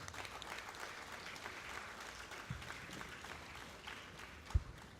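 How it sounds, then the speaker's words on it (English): A quiet, somewhat distant wash of audience clapping greets dignitaries on the dais at a technical session, steady and continuous with a single sharp thump near the end. "Please give them another huge round of applause."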